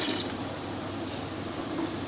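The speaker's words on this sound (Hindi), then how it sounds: "2 लीटर हम इसमें पानी डाल देंगे।" Water poured from a vessel into a pot of whole masoor lentils with onion, a steady broadband splashing fill lasting about two seconds, close and moderately loud with no talk.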